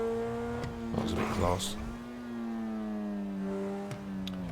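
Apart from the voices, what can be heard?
LaFerrari supercar engine revving in GTA 5, a video game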